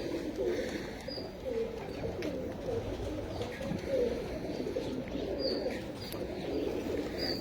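Pigeons coo softly in a loft, a low murmuring that rises and falls in repeated calls. Faint chirps and background hiss sit under it, and no clear talk is heard.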